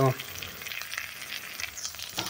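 Sukuti dried fish fries in hot oil with a steady crackling sizzle, close and moderately loud, bursts of popping rising and falling without any voice.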